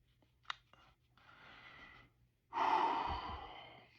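A person with anxiety does a breathing exercise: a small click, then a soft, drawn-out inhale, a brief pause, and a louder, longer exhale, close to the microphone with no speech.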